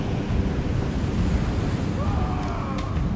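Crashing waves in the Gods Will Fall video game, a low rumbling surf with windy noise, steady and moderately loud with a faint tonal sound late on.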